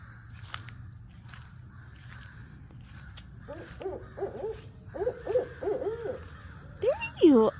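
A barred owl in Florida wetlands gives a series of hooting calls that grow louder and more emphatic over the last few seconds, fairly close, above a low steady background hum with a few faint rustles.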